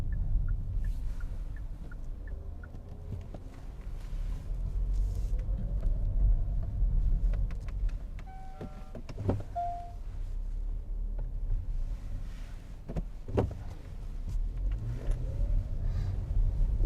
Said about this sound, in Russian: Сейчас пропустим машину.